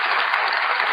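A church congregation applauds in praise of the Lord, a loud, dense wash of many hands clapping together through a brief burst.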